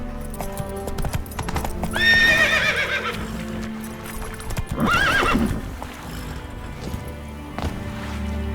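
A horse gallops in The Witcher 3: Wild Hunt, its hooves clip-clopping close and steady while it lets out two loud whinnies, one early and one midway, over a low game ambience.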